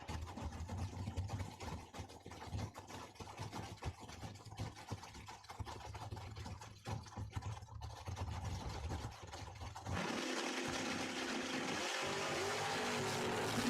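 Drag racing cars, a Firebird and a Vega, at a dragway. A continuous engine roar runs throughout and swells into a louder, harsher blast near the end as the cars launch.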